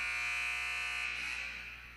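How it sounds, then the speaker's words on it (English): An electronic buzzer at the end of a junior varsity high school volleyball match sounds one steady, sustained tone in a gym, fading slightly toward the end. "as that buzzer goes off"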